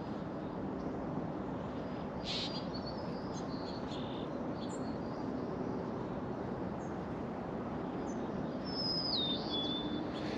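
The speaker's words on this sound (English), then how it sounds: "Good morning, little birds." Small birds chirp and tweet in a garden, a few faint, scattered calls high over a steady, low outdoor background hum with no talking.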